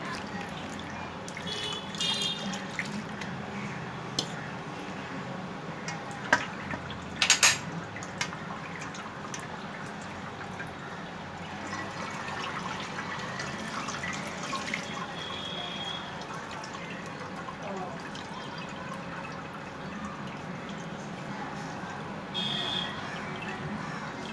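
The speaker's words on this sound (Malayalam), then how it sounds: "സാധാരണ വെള്ളം ഒഴിച്ചു കൊടുക്കണം" A steady, low trickle of plain water pouring and dripping over freshly strained paneer runs throughout, fairly faint, with a few brief louder clinks partway through.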